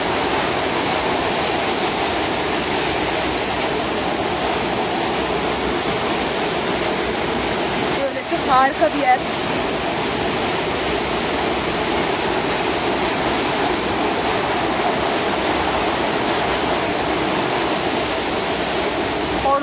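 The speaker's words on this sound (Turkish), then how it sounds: "Ormanın içinde, dağların arasında şelale." Roar of a waterfall in a forest among mountains, Samandağ Waterfall near Düzce, a loud continuous broadband rush of falling water filling the whole clip, with a brief spoken remark partly masked by the noise.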